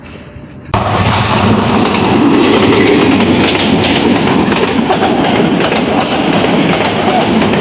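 A crowded passenger train runs along a rail line beside the Dhaka–Sylhet highway in Gazipur, Bangladesh, close and loud, with a steady rumble and clickety-clack of wheels that starts abruptly and continues throughout.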